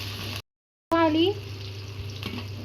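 Tomato added to frying onions and curry leaves in a pan for black chana curry, a close hiss of frying with a brief gap, then a sharp burst of sizzle as it is stirred, continuing steadily.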